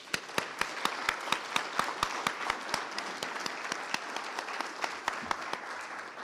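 Applause for inductees at an employee gallery induction ceremony: steady, moderately faint clapping from a crowd, with a few sharp individual claps standing out in a fairly regular rhythm throughout.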